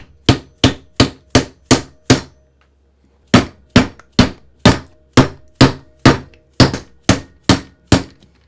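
Wheel faces being tapped onto the hubs of a VS4-10 Fordyce RC crawler build: a series of crisp, evenly spaced hard knocks, six in a row, a pause, then about a dozen more, close and loud.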